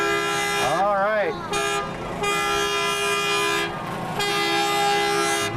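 A Voyager 806 train float in a small-town summer parade toots its whistle in a long, loud, wavering blast, then gives several shorter toots, with crowd chatter and a commentator talking underneath.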